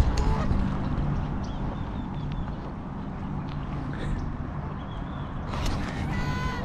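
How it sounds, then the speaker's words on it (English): Geese honking repeatedly amid a busy, noisy outdoor background with water and wind in La Mesa, San Diego, calls fairly close and irregular. "There's a couple geese over here. He's making a lot of noise."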